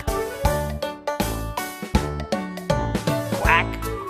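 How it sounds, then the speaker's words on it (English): Quacking from farm ducks sounds in a rapid rhythmic series of about a dozen loud, nasal calls, each sharply struck and quickly fading, close and clear over a musical backing. "The ducks on the farm say quack"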